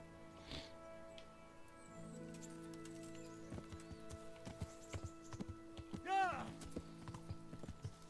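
Horse hooves clip-clop in the video game Kingdom Come: Deliverance, a steady run of light, quiet hoof steps over faint game ambience, with a short whinny-like call near the end.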